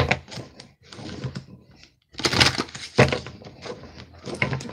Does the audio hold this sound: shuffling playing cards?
yes